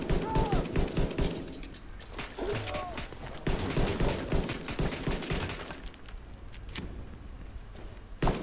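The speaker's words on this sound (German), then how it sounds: "Ich muss irgendwo durchs Gitter wieder schießen." Rapid gunfire crackles through a firefight in The Division 2, repeated sharp shots and bursts that are loud and close, easing off near the end while someone talks occasionally in German.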